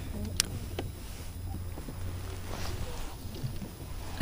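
Steady wind rushes over an outdoor microphone on the water while ultralight baitcasting reels are tested, a low buffeting rumble throughout with a brief sharp click near the start and a louder mechanical sound at the very end.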